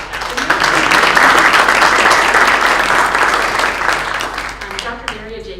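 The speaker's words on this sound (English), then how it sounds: "We should clap now." Audience applause at a Port Authority certificate ceremony, a full burst of clapping from a crowd that swells, holds, then tapers off near the end, with a few voices under it.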